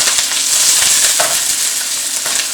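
Diced ham and onion fry in hot oil, giving a loud, steady, close-up sizzle with light crackling and no talk.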